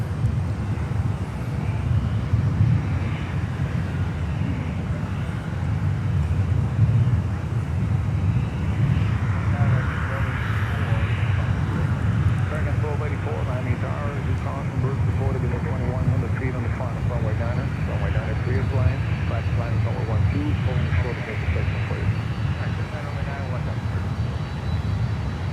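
An airplane landing on runway 12 at Miami airport gives a continuous broad engine roar at moderate distance, with radio voices talking over it throughout.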